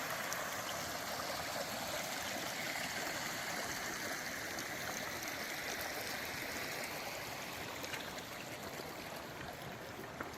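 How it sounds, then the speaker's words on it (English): Pine Creek in Red Rock Canyon, Nevada, runs full in April, its water rushing and gurgling in a steady, unbroken stream sound, close by with no talking. "A lot of water running here."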